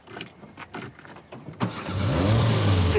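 A car engine cranks in a few rhythmic bursts, then catches and settles into a steady, loud idle rumble close by.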